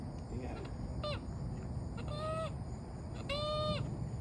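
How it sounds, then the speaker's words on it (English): A goose-like bird at a lakeside park sends out several nasal honks in separate bursts, fairly close and loud over steady outdoor background noise. "You stay away from that bird."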